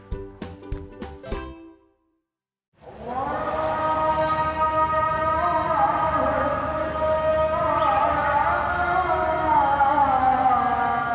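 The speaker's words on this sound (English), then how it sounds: "what you're hearing there is a Muslim call to prayer." A Muslim call to prayer, a single voice chanting long, wavering held tones that carry steadily and loudly for several seconds, following a brief burst of clipped speech-like sounds and a short pause.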